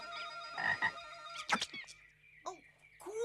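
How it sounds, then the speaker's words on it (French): Cartoon frog croaking in a bouncy animated chase, several loud close croaks in quick clusters with springy rising boings between them, over a light music bed. "Rends cette grenouille!"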